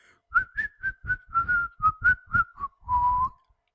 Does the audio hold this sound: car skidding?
no